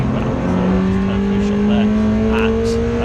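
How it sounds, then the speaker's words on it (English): Racing cars in a mixed field of shapes and sizes, including a Mini Cooper, Honda, Lotus and Audi, sweep past on the Snetterton circuit, engines droning steadily with rising pitch as they pass, loud and close throughout. "the field comes down here with different shapes and sizes of cars that work their way to and through abreast"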